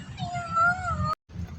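Close cat meow with a drawn-out, wavering cry that lasts about a second, then a short break and a fainter trailing sound, with low background rumble throughout.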